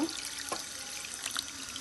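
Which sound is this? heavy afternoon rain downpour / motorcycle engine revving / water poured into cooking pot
water poured into cooking pot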